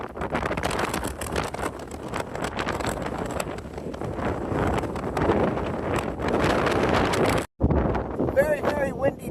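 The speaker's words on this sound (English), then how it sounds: "Very, very windy day out today." Strong wind on the Pacific Crest Trail buffets the microphone in heavy, roaring gusts that rise and fall, loud and close, with a brief dropout near the end.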